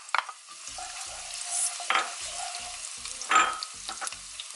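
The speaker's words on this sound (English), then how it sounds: "so I'm going to throw in the onion." Chopped onion hits hot vegetable oil, sizzling and frying with a steady crackle, punctuated by a few sharper spatters and stirring scrapes, fairly close and alone with no talk.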